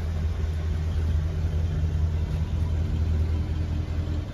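A 1974 Mercury Marquis Brougham idles steadily through a worn exhaust with a tired Y-pipe, giving a low, even, continuous rumble up close with no talking.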